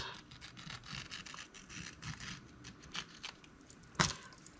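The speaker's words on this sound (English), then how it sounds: "if you hold a bit of tension on the fabric that you're cutting away, that will help you get a cleaner cut" Scissors trim applique fabric close to the stitching, producing soft, close snips and rasping cuts in an uneven rhythm, with one sharper crisp snip near the end.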